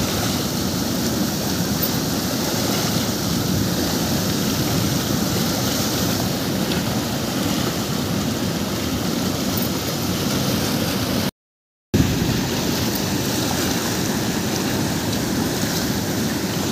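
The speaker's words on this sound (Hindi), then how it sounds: "काफ़ी ज़्यादा खतरनाक पानी आ रहा है" Fast, dangerous river water rushing past near a temple site in Chhattisgarh, a steady broadband roar of churning flow that fills the whole stretch, close and loud with no voices, briefly cut out once near the end.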